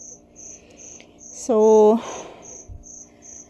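Cricket (kuliglig) chirping outdoors, a steady pulsed trill repeating in regular bursts across the whole stretch, with a louder nearby call and rain dripping in the background.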